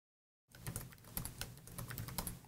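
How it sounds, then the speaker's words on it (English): Rapid, uneven keystrokes on a computer keyboard as a password is entered during a Cisco wireless lab session, close and fairly quiet, starting after a brief silence with no talking. "if I can type a password right"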